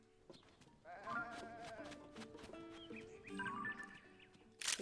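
A white goat in Zelda: Tears of the Kingdom lets out wavering bleats over soft, tinkling game music, ending in a brief bright burst.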